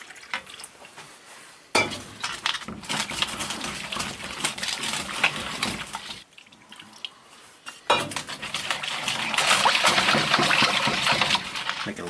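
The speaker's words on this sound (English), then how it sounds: "Okay, I'm gonna add water to that." Water being added to a homemade clay paint mixture and stirred to thin it, with clinking and scraping against the container under soft sounds, growing busier and louder in the second half.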